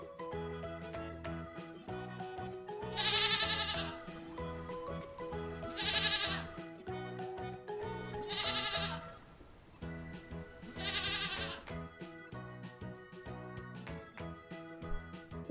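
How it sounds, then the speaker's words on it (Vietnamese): Goat bleating in four loud, drawn-out cries spaced a few seconds apart, over steady background music, in a children's animal-sounds lesson. "Con dê, con dê."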